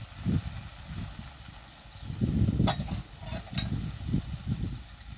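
Vegetables for a vegetable roll stirred and tossed in a pan, with repeated low scraping and rustling bursts and a couple of brief metallic clinks, close and moderately loud, no talking.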